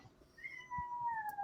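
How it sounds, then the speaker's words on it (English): A cat gives one drawn-out meow that rises and then slides down in pitch, fairly faint against a quiet background with no talking. "That was a cat."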